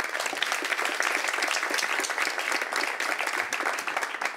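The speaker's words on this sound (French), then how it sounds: "On l'applaudit." Sustained applause from an audience at a televised debate, dense and even clapping throughout with no voices on top.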